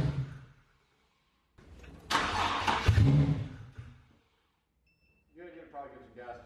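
A car engine that sat for a week on E85 fuel cranks and catches in a loud rough burst lasting about two seconds, with people talking before and after.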